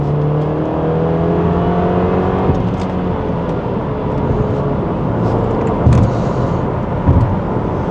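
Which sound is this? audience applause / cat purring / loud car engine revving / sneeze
loud car engine revving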